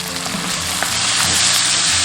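Green and red peppers and pickled radish stir-fried in chili oil with bean paste and hotpot base, a loud, steady close-up sizzle with no talk.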